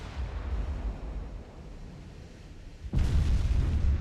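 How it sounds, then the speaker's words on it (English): Naval gunfire in the warship game Ultimate Admiral: Dreadnoughts, with a dull low rumble of distant shelling that jumps to a sudden louder booming roar partway through and holds there. "Somebody's firing HE at me."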